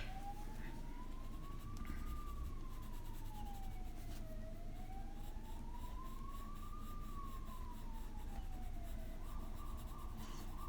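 An ambulance siren wails outside, faint and distant, rising and falling in slow sweeps over a low indoor hum.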